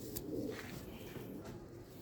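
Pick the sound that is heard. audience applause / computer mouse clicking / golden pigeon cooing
golden pigeon cooing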